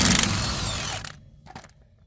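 A power tool backs studs out on a Yamaha golf cart with a loud whirring burst for about a second, then it stops and a couple of faint mechanical clicks follow, close and without talking.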